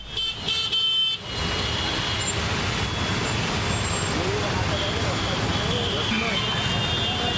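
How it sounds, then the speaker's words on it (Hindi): A city traffic jam in Moradabad, India, stretching from the Roadways area to the Kapoor Company bridge, fills the air with a dense, steady roar of engines and occasional horn toots, with voices speaking over the start. "रविवार को भी ऐसा ही नजारा देखने को मिला, जहां रोडवेज से लेकर कपूर कंपनी पुल तक घंटों जाम लगा रहा"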